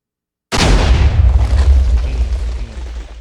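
An explosion in Minecraft 1.12.2 with the Dust mod bursts suddenly out of silence, a loud deep boom that rumbles and slowly fades.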